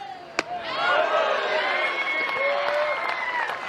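A stadium crowd at a women's college softball game between Florida and Texas swells into cheering and applause after a pitch, a sharp crack at the start, sustained loud cheering that slowly tapers.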